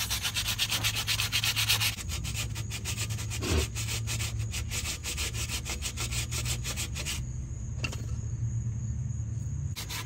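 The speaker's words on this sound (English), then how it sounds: "I got some 220 sandpaper here and some blaster, and I'm gonna hit the surface." Sandpaper of 220 grit rubs hard and continuously across the surface of a second-generation Camaro brake drum, making a loud, steady scraping close by with no voices.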